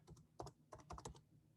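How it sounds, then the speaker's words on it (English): Keys on a computer keyboard clatter in quick, irregular bursts of close, soft clicks, a short stretch of typing with no voices. "So I just type this"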